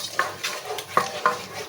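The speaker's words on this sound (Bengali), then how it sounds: "এখন এটাকে কষিয়ে নেব।" Rohu fish pieces are stirred and cooked down in a pan, with about four distinct scraping strokes of a utensil over a soft sizzle and no talking.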